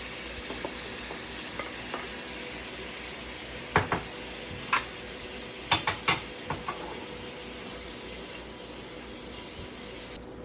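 Ground beef frying in a pan for lasagna, a steady sizzle with a spatula stirring and scraping now and then in sharp clattering bursts, close and moderately loud, with no talking.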